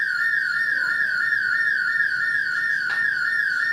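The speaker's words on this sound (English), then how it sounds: "it's the same house that has the alarm going off" A house alarm next door sounds continuously, a steady high electronic tone with a rapid warbling pulse that holds at constant loudness throughout, with no talk over it.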